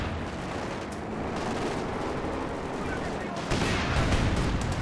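Sherman tank guns and infantry fire in a Company of Heroes 2 World War II battle, a dense continuous roar of gunfire with a louder burst near the end, plus occasional speech.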